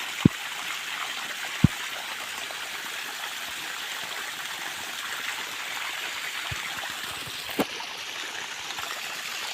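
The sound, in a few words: water flowing from drip irrigation pipes, motor running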